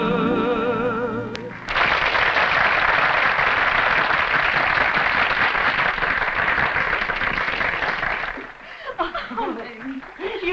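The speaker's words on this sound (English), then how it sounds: "Just listen to that applause." A 1944 film audience breaks into loud, sustained applause after a song, steady dense clapping mixed with laughter and cheers that fades out near the end as voices begin.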